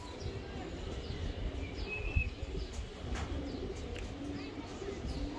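Racing pigeons of a tournament line coo softly in a loft, low throaty murmurs over a busy background with occasional faint chirps.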